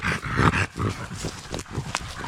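A dog making short huffing, snuffling and growly sounds in quick bursts, close by, with some rustling around it.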